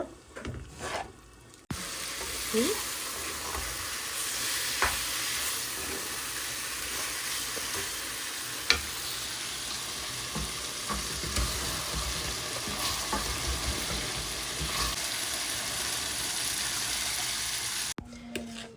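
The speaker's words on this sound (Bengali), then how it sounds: "এখানে এই যে গরুর মাংস সব মশলা দিয়ে নিলাম, এটাকে রান্না করে নেব হালিমের জন্য" Steady loud sizzling of beef with spices frying in a pan for haleem, with occasional stirring scrapes, continuing for a long stretch without talk.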